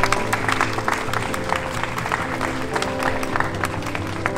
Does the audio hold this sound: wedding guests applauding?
yes